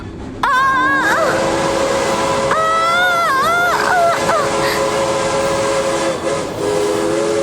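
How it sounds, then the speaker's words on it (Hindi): A train sounds in a horror story setting, with loud, close whistle or horn blasts that bend in pitch over a steady rumbling rail noise, sustained for several seconds. "ट्रेन की आवाज आ रही है।"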